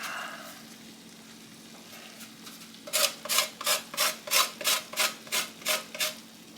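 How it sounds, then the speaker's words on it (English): A lemon is zested over a sheet pan of Greek chicken, giving about ten evenly spaced, crisp rasping strokes close to the microphone against a quiet background hum. "Now it's time to top this with some more lemon zest."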